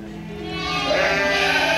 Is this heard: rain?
no